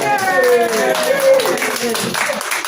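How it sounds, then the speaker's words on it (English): Audience applause at the opening of an art society's spring exhibition, a short burst of clapping heard beneath a person talking over it at close range. "big round of applause"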